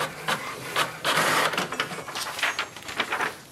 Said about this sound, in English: It will also print a page with the details about your Wi-Fi and its password.